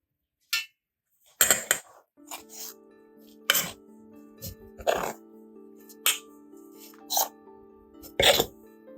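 Soaked wheat flour scraped and tipped from a bowl into a mixer jar: sparse, sharp clinks and scrapes of a spoon against metal and glass in a quiet kitchen, a few separate knocks with a faint steady hum beneath.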